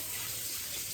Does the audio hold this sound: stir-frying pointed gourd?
no